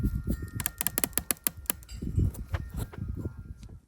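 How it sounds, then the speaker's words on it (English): Vector Optics Tauron Gen II ED 5-40x56 rifle scope turret being turned, a run of about ten sharp, close mechanical clicks in quick succession, followed by a few softer scattered clicks and handling noises. "ten clicks"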